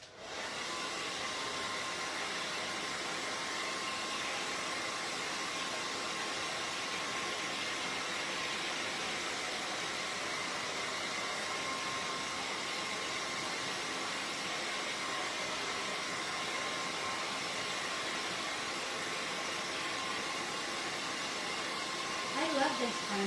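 A hair dryer blows on a painted pumpkin craft project, a steady, loud whooshing drone that continues unbroken for over twenty seconds with no other sounds.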